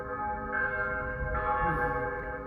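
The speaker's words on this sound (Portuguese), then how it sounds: "O sino da igreja está até tocando ali." Church bells ring nearby with sustained, layered metallic tones that hum steadily, and a second strike swells the sound about halfway through.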